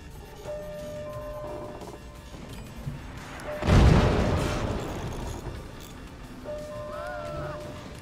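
Inferno cannon firing in the video game Forts: one heavy booming blast erupts mid-clip and rumbles away over several seconds, set among quieter game sounds and electronic tones.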